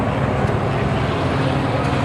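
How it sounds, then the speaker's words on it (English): A news helicopter hovers overhead during a live field report, a loud, steady broadband engine and rotor roar that fills the whole moment without pause, with no voice over it. "there's a helicopter right above me, and we can't see much right now."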